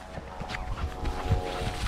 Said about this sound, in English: Why is it making noises then? It's the engine.